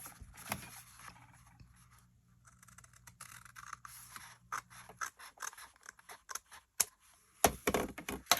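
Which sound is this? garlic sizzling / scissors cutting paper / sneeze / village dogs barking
scissors cutting paper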